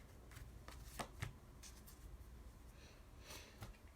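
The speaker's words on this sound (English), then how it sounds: "Let's get some cards for" Tarot cards being shuffled at close range, soft papery riffles and slides with a few sharper snaps, quiet and without speech.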